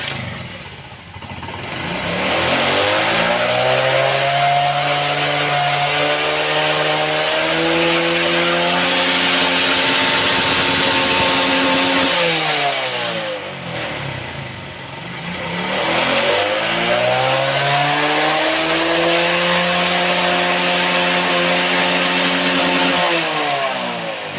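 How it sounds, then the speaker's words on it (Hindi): Honda CD 70 motorcycle engine with a misfiring problem, revved hard twice on the throttle, each rev climbing and holding a loud, steady high-pitched drone before dropping back, close up with no talk. "ये देखो अब मैं एक्सीलेटर देता हूँ"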